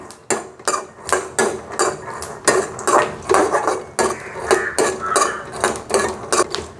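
Peanuts dry-roasting in a pan, stirred steadily, give a near, busy rattle and scrape of nuts and spoon against metal in repeated bursts, with no talking.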